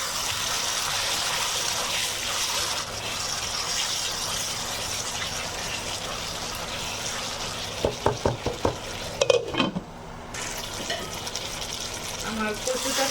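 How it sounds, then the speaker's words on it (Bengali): Taro root stir-fried in a pan over medium flame, a steady dense sizzle throughout with a few sharp clinks of a utensil scraping and stirring near the end. "আমি এখন কচুটা 3 থেকে 4 মিনিট কষাতে দিব"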